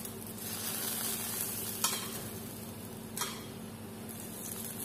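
Butter oil sizzles on a paratha in a pan, a soft continuous frying hiss with a low hum beneath and two brief sharp clicks from utensils, fairly quiet and without talk.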